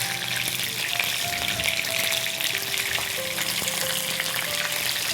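Chicken pieces fry in hot oil for a Christmas fusion chicken curry, giving a steady, close, dense sizzle with faint clinks of stirring and a few tonal kitchen sounds running underneath.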